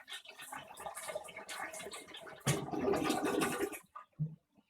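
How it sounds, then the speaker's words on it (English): A BioBidet-fitted toilet flushes to empty its tank, a steady rushing swirl of water that surges louder midway and then trails off into a couple of short gurgles. "flush toilet to drain water inside of toilet water tank before disassembling the water hose"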